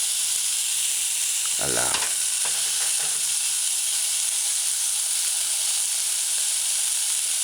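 Meatballs frying in a little oil in a saucepan on a medium-low stove, a loud continuous sizzle and hiss with brief stirring scrapes near the start and a short spoken word.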